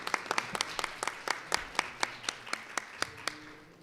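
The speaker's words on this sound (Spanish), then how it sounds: "Y pues un aplauso, por favor, al maestro." A small audience at a book fair event in Aguascalientes claps, producing a steady run of distinct, fairly faint handclaps at a quick even pace that fades at the end.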